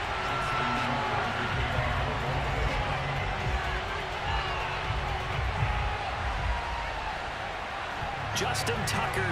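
A Baltimore stadium crowd at M&T Bank Stadium, Ravens versus Bills, in Madden NFL 22, gives a continuous, dense roar of cheering while broadcast commentators talk over it.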